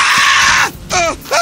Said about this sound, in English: Just listening to the screaming enemies is amusing.